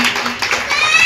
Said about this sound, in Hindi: सर के लिए एक बार जोरदार तालियां